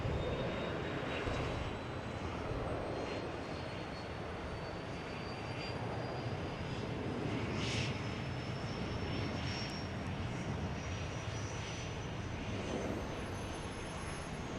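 A Delta Embraer E-175 jet at Boston Logan gives off a steady, loud engine roar with a rising whine for the whole stretch, no voices over it.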